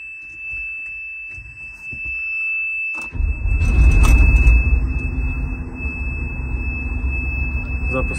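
A 1992 John Deere 1177 combine harvester engine cranks and fires after three seconds, then settles into a loud rumbling idle while a high steady parking-brake warning tone whines throughout.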